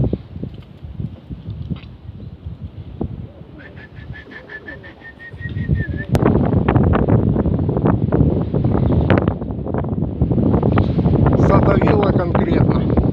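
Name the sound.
strong wind blowing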